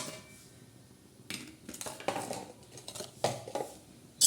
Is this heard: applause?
no